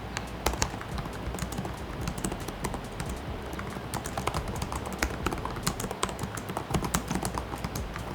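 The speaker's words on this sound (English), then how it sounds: "So just to show you a sample, here is how our typing test." Rapid, steady typing on the keyboard of an HP Omen Transcend 14 laptop, close and crisp, dense clicking keystrokes with no talking.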